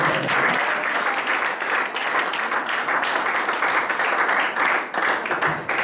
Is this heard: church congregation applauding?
yes